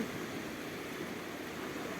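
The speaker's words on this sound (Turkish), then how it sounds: "Dalgalar ne güzel." Steady rushing wash of sea waves, a continuous broad roar without distinct breaks.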